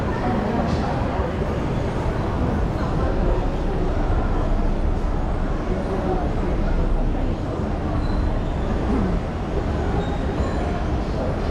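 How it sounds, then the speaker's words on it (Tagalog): A train rumbles past during a road trip in Sydney, Australia, a steady, loud, continuous roar of wheels and carriages that stays constant throughout, with some voices audible beneath it. "Yan ang tren."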